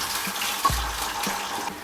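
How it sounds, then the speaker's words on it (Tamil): Boiled mutton poured with its cooking water into hot oil in a pan, a brief hissing, watery rush with soft splashes, close and fairly quiet. "இப்போ நம்ம வேக வச்சுருக்க மட்டனை சேர்த்துக்கலாம். தண்ணியோடு சேர்த்துக்கோங்க"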